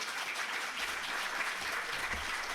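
An audience at a Gujarati poetry talk session with poet Krushna Dave claps together, a soft, steady, evenly textured patter of many hands heard at a distance and fairly quiet, with no talking over it.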